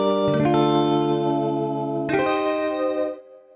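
A Desolate Guitars Kontakt library guitar plays two sustained, chorus-laden notes with spring reverb and echo, the second struck about two seconds after the first, both ringing out before fading.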